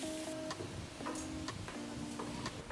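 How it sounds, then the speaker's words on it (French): Cheese stirred into hot cream in a saucepan for lasagne, with faint ticking scrapes of the spoon against the pan at a regular rhythm over a quiet sizzling background. "on met le fromage dedans et on remue"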